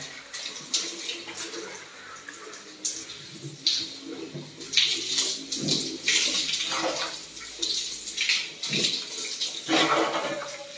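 Water running from shower rooms at the Cliff Cabanas swimming resort, a continuous splashing rush with surges and spatters, fairly close and steady throughout.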